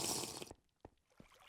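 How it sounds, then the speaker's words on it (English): A bottle of water is drunk in a video game: a short, bright gush of liquid, then quiet with a few faint, separate drips. "If I go ahead and just drink this bottle of water."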